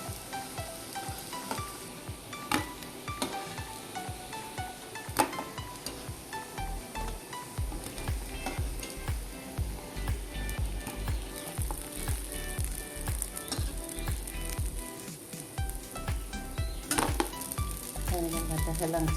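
Buffalo spinach (helencha) fritters made with rice flour fry in hot oil, a continuous close sizzle broken by clinks and scrapes of stirring in the pan.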